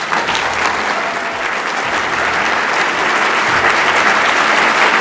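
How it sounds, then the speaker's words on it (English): An audience at a formal event gives sustained, loud applause, a thick even roar of clapping that holds steady for the whole stretch and swells slightly toward the end. "Thank you for that applause"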